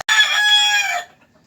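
Bantam chicken in a small backyard coop giving one loud, close call lasting about a second, bright and harmonic, fading into quiet.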